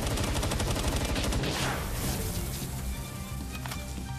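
Rapid automatic gunfire crackles in dense bursts during a video game boss fight against Axel and Orserk, loud and continuous at first, then thinning into scattered shots.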